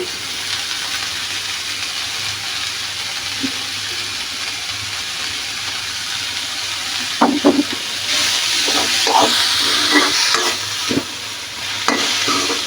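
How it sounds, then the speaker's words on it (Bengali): Red amaranth leaves (lal shak) frying in a pan give off a steady hiss, broken by a few scraping stirs and clinks partway through. "এভাবে নাড়াচাড়া করে দিতে হবে"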